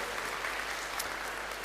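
An audience applauds at the 2019 Kham Ku 8th anniversary event in Panglong. A full, continuous wash of clapping holds steady throughout, with a faint murmur of crowd underneath.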